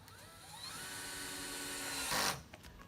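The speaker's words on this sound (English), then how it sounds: "So let's get a few more screws in here." A power drill drives screws into formwork for a mulchcrete experiment, heard as a steady high motor whine with rising pitch that surges briefly before stopping, close and loud, with no talk.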